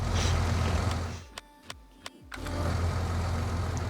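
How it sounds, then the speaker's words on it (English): A vehicle engine in a farming video game cuts off to near silence, leaving a few sharp clicks, then rumbles back to a steady mid-pitched idle that holds to the end, with no talk. "Where's automatic engine start?"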